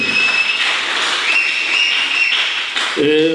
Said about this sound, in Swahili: Tukaribishe mtazamaji wetu kwa makofi, sangwe na vigelegele